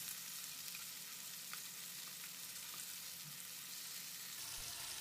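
Masala-coated fish fries in a pan over a medium flame, giving a faint, even, continuous hiss of hot oil with no other sounds.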